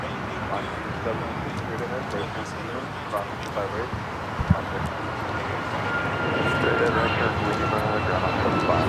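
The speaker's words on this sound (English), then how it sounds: "That was Alaska 1315 taking off to Portland on the MAX 9." An Alaska Airlines Boeing 737 MAX 9 departs Los Angeles International, its jet roar building steadily from far off and growing louder toward the end, mixed with talk throughout.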